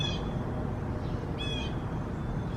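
Birds calling around a backyard, a couple of faint cawing calls, crow-like, rising briefly above a steady outdoor background hum.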